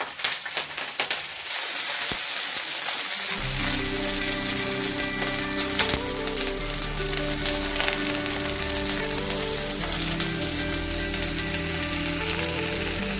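Green chillies dropped into hot oil for a tempering, a quiet crackle that bursts into a loud, dense sputter and spitting sizzle and keeps going steadily.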